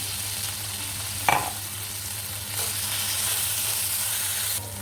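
Ginger, garlic and chilli stir-fry in hot oil for samosa filling, with a continuous close sizzle, one sharp spoon knock early on and gentle stirring afterward.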